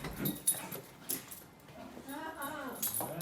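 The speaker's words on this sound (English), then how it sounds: "There's the guard dog." A dog whimpers and gives short yips and a drawn-out whining cry, close by, mixed with soft voices and small rustling sounds.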